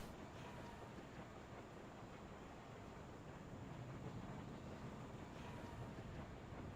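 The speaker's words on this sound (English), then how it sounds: "I haven't been on a deep run tram in ages." Deeprun Tram ride in World of Warcraft, a faint, steady rumble of rolling rail carriage noise that carries on without letting up.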